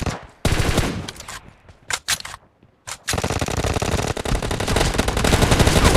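Rapid automatic gunfire from the mobile battle game PUBG Mobile in team deathmatch, loud bursts of shots after a few scattered single cracks, then sustained rattling fire to the end.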